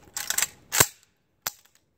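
An AK-47 rifle fitted with a Definitive Arms fighter brake fires three sharp shots, two close together and a third after a pause, each a quick crack with short decay, at moderate distance.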